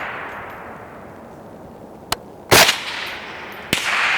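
Rifle fire at a steel plate target, with a faint early crack followed by a loud sharp shot and a later third report, spaced irregularly over steady outdoor noise.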